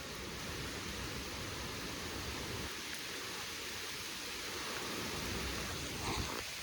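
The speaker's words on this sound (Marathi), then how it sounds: "पावसाने सुरुवात केली परत" Heavy rain pours down steadily around a farmhouse in the countryside, a dense, even hiss of falling water that holds at a constant level throughout, with no voices.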